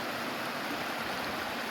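Steady broadband rush of water flowing below a waterfall, continuous and moderately faint, with no voices.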